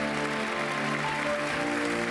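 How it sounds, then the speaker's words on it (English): Applause at the 2019 European Inventor Award ceremony, a dense steady wash of clapping from an audience with a soft musical tone underneath, constant for the full length. "Big round of applause."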